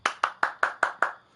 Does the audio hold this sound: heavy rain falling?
no